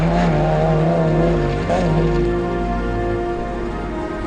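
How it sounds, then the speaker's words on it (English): A rally car with a 6-cylinder BMW engine pulls away at the Kameel 200 desert race, its loud, steady engine drone holding a strong tone and dipping slightly in pitch as it drives off. "Musti Jacobs and Azir Tal heading out in D28, powered by a 6-cylinder BMW motor"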